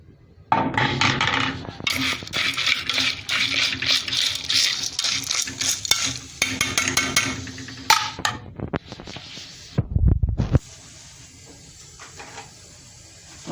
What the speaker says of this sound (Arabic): حطيت المكرونه وهنزل بقى بالخلطه.